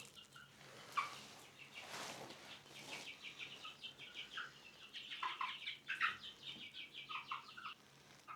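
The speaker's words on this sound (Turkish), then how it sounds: "horoz." Rooster and hens calling close by, a steady run of clucks and short chirping cries with a few louder squawks, no talking.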